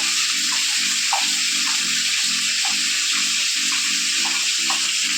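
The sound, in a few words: water running from a tap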